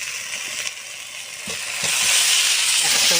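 Eggs, broccoli and potato hit a pan of cooked-down masala, with soft stirring scrapes giving way to a louder, steady sizzle of frying near the microphone.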